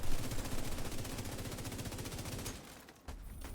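Sustained rapid automatic gunfire from The Division 2 PvP combat, loud and dense bursts that briefly dip and then resume, with no talking over it.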